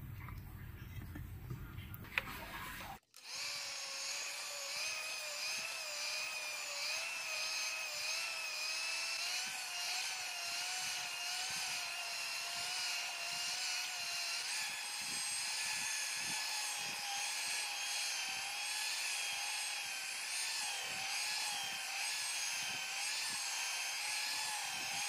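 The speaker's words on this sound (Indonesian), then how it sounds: "saya mau mixer dengan kecepatan rendah" An electric stand mixer kneads sweet sausage bread dough at low speed, a steady motor whine with a slightly wavering pitch that runs continuously after switching on, with faint rhythmic knocks.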